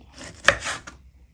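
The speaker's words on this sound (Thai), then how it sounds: "แบ่งครึ่งเลย หั่นตามชอบเลยนะคะ" A knife cuts a halved pineapple into pieces on a board, with one crisp chop standing out among softer slicing strokes, close and fairly quiet.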